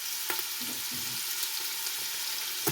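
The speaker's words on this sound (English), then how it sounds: "now we're going to let this simmer for about 10 minutes" Food simmering and lightly frying in a pan, a steady low sizzle running throughout with a few soft stirring knocks, close and moderately quiet, no talking.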